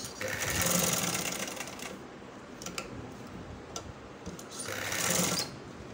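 A sewing machine stitches elastic onto a hijab chadar in two quick runs of rapid mechanical ticking, with a quieter pause in between, close and alone.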